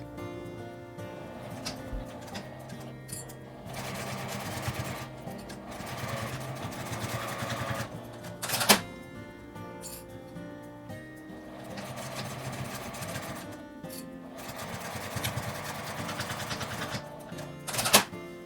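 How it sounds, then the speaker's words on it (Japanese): A sewing machine stitches fabric scraps, sewing a 1 cm seam along both ends of a small handmade envelope, running in a steady mechanical chatter with brief pauses and a couple of sharp clicks. "両端を1センチ縫います。"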